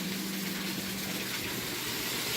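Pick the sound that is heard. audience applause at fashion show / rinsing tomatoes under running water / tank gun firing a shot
rinsing tomatoes under running water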